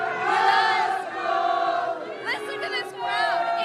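A large crowd fills the streets outside Minute Maid Park at an Astros World Series street party, with loud sustained cheering, whooping and chatter, rising and falling in waves close around.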